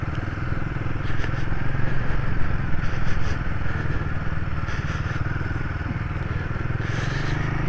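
A Royal Enfield Himalayan motorcycle ridden off-road on a dirt trail at an adventure bike festival, its single-cylinder engine droning steadily up close under wind, with occasional rattles and clatter from the rough ground.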